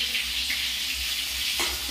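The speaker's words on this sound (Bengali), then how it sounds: "একেবারে তেল ছিটে ফুটে চারিদিকে ছড়িয়ে যাচ্ছে" Eggplant pieces fry in hot oil, crackling and spattering in a dense, continuous sizzle close by, with a sharper pop near the end.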